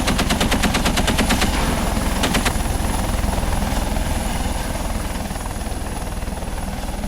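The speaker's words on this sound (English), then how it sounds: "The trigger, which is just your mouse button, is an LMG machine gun." A Eurocopter Tiger attack helicopter in the Second Life video game fires its LMG machine gun in a rapid burst over the loud, steady drone of its rotors and engine, and the gunfire stops partway while the helicopter noise carries on alone.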